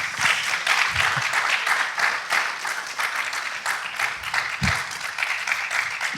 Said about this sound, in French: de la ville de Biarritz, qu'on peut applaudir, Peggy Bergeron.